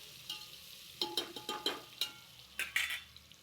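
Ginger, garlic and coriander paste hits fried onion in plenty of oil, giving a soft background sizzle punctuated by a few quick stirring scrapes and clinks of a spoon against the pan.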